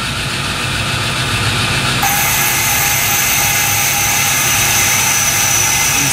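A metal lathe turns a 45-degree angle on a shaft under power feed, giving a steady loud machining whir throughout, with a thin whine joining partway through and no talking.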